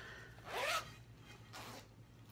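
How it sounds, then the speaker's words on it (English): A zipper being pulled open on a fabric cross-stitch project bag, two short close rasping strokes, the first longer and louder, in a quiet room. "So when you unzip this,"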